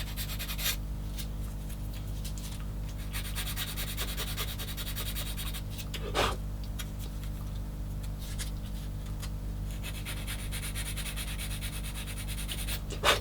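Steady rubbing and scraping of sandpaper on a 1/16 scale plastic Takom M10 IIC Achilles tank destroyer model kit part at a workbench, a continuous close gritty rasp with brief louder strokes, no talking.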